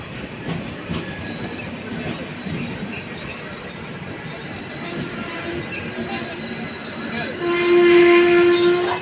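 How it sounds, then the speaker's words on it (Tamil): A train rumbles past on the rails with a steady rolling clatter, then a sustained high horn-like tone rises near the end. "ட்ரெயினில் போக வந்திருக்கோம்."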